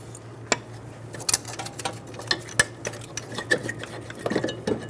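Sparse, dry ratchet-like clicks and light metallic taps come from loosening the lower bolts on the front strut of a 2007-2011 Toyota Camry, close and fairly quiet, with small irregular pauses between bursts.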